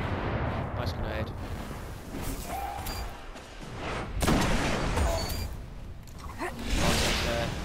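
A grenade explosion in the shooter game Destiny, heard as a loud burst amid repeated gunfire and booming blasts, with voices talking over the chaotic firefight.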